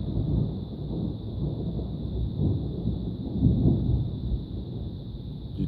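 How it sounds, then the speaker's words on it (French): Low, rolling thunder rumbles continuously in the distance, swelling briefly midway, with a faint steady high hiss over it. "Tonnerre, mais de ce côté-ci."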